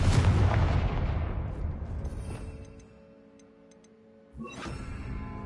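A Confringo spell blast in Hogwarts Legacy booms loudly at the start and rumbles away over a few seconds, then a second sharp hit strikes near the end inside an echoing tomb.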